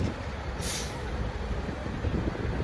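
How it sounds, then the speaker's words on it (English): A bus rolls past outdoors, a loud broad rumble with one sharp hiss of air brakes partway through. "Look, there goes another bus."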